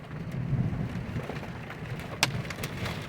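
Heavy monsoon rain with small hail pours down steadily in a dense hiss, with a few sharper hailstone impacts, including one loud crack, standing out against the wash.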